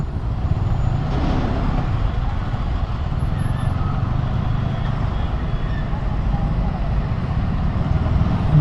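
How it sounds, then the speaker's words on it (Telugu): A roadside traffic jam on the route from Amritsar toward Katra: a dense, continuous rumble of idling trucks, cars and buses, with engine drone filling the scene close by and no breaks. "ఇది మాత్రం ఫుల్ ట్రాఫిక్ అయితే జమ అయింది ఇక్కడ"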